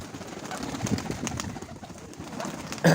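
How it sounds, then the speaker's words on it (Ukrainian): Soft pigeon coos blend into an outdoor bed of background noise, with a brief louder rustle near the end. "Це голуб, голубочки."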